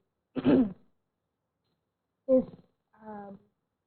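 Three short, harsh bursts with gaps between them, like a person clearing the throat or giving small coughs, close to the mic.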